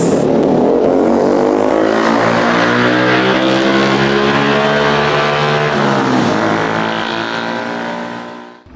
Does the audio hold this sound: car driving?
yes